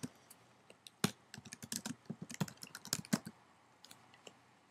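Rapid keystrokes on a computer keyboard as a file name is entered, a burst of close, crisp clicks in uneven rhythm with brief pauses, heard alone without any talking.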